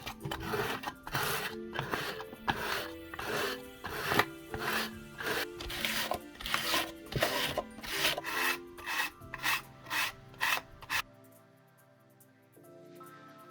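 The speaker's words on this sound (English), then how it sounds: "it's time to sand this bad boy down" Sandpaper sheets rasp back and forth across a handmade wooden box in quick, rhythmic close strokes for about eleven seconds, then stop, leaving a faint quiet tail.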